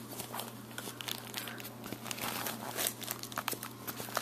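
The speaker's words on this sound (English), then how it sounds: "Open up this lens bag." Plastic bag holding an Opteka fisheye lens crinkles and rustles softly as it is opened up close, with faint, irregular crackles and tearing.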